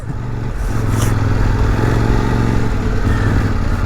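A Kove 800X Rally motorcycle rides off-road on a muddy forest track, its engine droning steadily and close, with faint clatter from the terrain.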